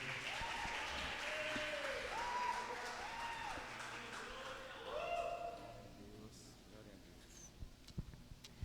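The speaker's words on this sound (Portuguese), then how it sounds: "aplauda o Senhor pela sua vida" A church congregation at a Holy Spirit conference applauds in a broad, continuous roar. Voices cry out and sing over it, and after about six seconds it dies down to scattered claps.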